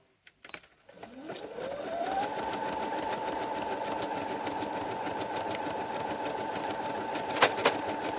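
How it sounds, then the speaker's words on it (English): A sewing machine runs up to speed and stitches steadily along the edge of a piece of paper-and-fabric collage, a continuous close, even motor hum holding for several seconds with a couple of brief clicks near the end. "I'm going to give it a bit of a stitch on the edge there"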